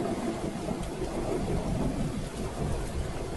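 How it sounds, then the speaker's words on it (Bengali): Steady, heavy rain pours with low thundery rumbling throughout a storm scene in a Bengali ghost cartoon, a dense continuous roar with no voices. "বৃষ্টি তখনও সমান তালে হয়ে চলেছে"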